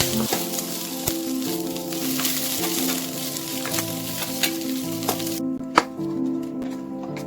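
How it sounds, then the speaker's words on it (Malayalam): Egg 65 with chopped green chillies is stirred in a frying pan, with a steady sizzle, utensil scrapes and a few sharp clacks over light background music. "നന്നായിട്ട് ഒന്ന് ഇളക്കി കൊടുക്കാം."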